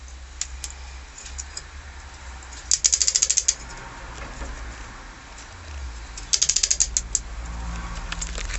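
Ratchet tightening a nut during removal of a classic car steering wheel, with two short bursts of rapid close clicks a few seconds apart over quiet background rumble.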